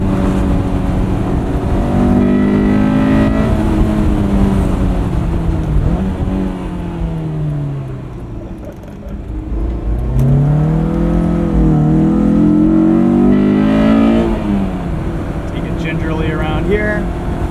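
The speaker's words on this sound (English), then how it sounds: "VTEC changeover happens so loudly." A 2001 Honda S2000 engine revs up steadily and climbs into a harder, louder upper range as VTEC engages, falls away midway, then climbs again in a strong sustained rise, heard up close.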